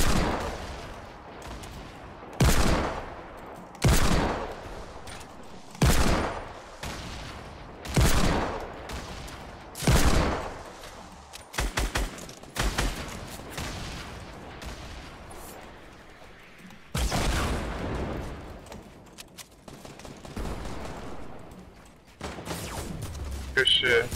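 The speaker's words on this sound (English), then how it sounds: "Start shooting your grenade launcher" Loud, booming grenade launcher shots and blasts in the Fortnite video game repeat about every two seconds, then come in a denser cluster of bursts, with voices faintly underneath.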